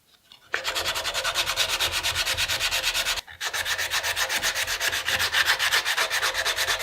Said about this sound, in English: sanding it is quite hard. I mean, that's like 60 grit sandpaper